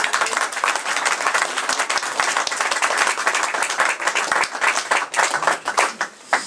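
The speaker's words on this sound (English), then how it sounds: "Who's going to start the clap?" Audience applause for a talk on Philip Jones Griffiths of Rhuddlan, a dense steady clapping crowd that thins into separate sharper claps toward the end.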